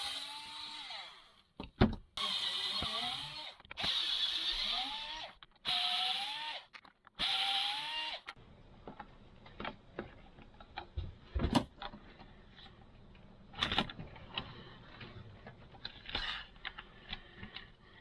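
An old Makita drill with newly replaced brushes whines up in five or six short, rising revving bursts. Then come scattered clicks and knocks from handling.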